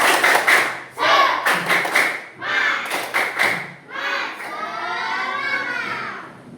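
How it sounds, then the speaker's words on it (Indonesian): Rhythmic group spirit clap at a teacher training assessment: loud patterned bursts of claps in quick sets, followed by the whole group chanting in unison. "Nah, sekali lagi tepuk semangat."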